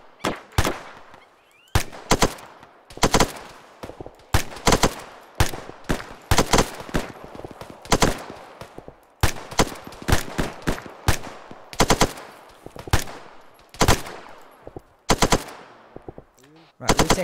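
Machine gun fire in the military shooter ArmA: repeated loud bursts of automatic gunfire with sharp cracks and echoing tails, arriving in irregular volleys throughout, with brief voices speaking between shots.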